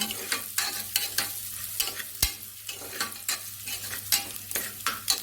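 Onions with salt sizzling in a frying pan for cabbage palya, with steady frying crackle and repeated scraping stirs of a spoon against the pan, close and moderately loud with no voices.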